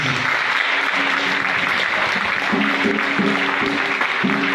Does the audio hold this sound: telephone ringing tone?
no